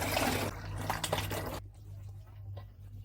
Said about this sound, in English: we'll pour the water into the fermentation tank